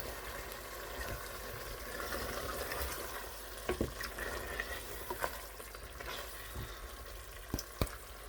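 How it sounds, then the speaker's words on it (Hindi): Bhuna gosht being stirred in a pan with fresh coriander, a soft steady sizzle of frying meat with occasional sharp spoon scrapes and clicks against the metal, moderately quiet and without speech. "इस तरीके से सब्ज़ धनिया ऐड करके उसको थोड़ा सा मिक्स कर लेना है।"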